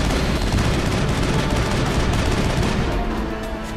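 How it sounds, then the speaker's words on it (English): Dense, sustained gunfire in the Mass Effect video game, a loud continuous barrage of rapid shots with no breaks that eases slightly in the final moment. "I'm getting shot to high heaven here"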